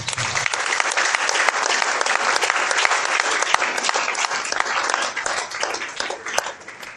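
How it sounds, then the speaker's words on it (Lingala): A church congregation applauds during a sermon, a dense, sustained burst of clapping from many hands that holds steady and eases slightly near the end. "Est-ce que tu peux acclamer pour la parole?"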